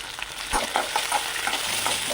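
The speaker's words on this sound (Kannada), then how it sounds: "ಸ್ವಲ್ಪ ಬೆಳ್ಳುಳ್ಳಿ, ಸ್ವಲ್ಪ ಕರಿಬೇವು, ಒಂದು 4 ಒಣಮೆಣಸಿನ್ಕಾಯಿ ಇಷ್ಟನ್ನ ಫ್ರೈ ಮಾಡ್ಕೊಳ್ಳೋಣ" Garlic, curry leaves and dried red chillies frying in hot oil, a close, steady crackling sizzle with a few light stirring taps and clicks from a spoon in the pan.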